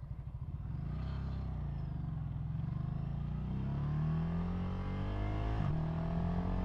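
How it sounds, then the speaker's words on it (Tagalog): A 2023 Ducati Scrambler motorcycle at full throttle: a loud, steady engine roar that climbs in pitch as it accelerates, close and continuous with wind rush and no speech. "Ducati Scrambler full throttle"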